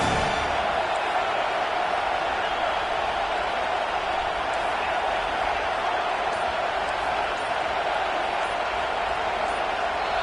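A dense, steady roar from a packed stadium crowd at an American football game, staying loud and unbroken throughout with no clear breaks or peaks.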